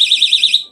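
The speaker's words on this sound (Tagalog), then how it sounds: "Louie, emergency alarm. Emergency alarm, ilalagay mo sa ID mo" A small personal emergency alarm worn on an ID lanyard shrieks loud and close with a rapid, high-pitched warbling tone that cuts off abruptly.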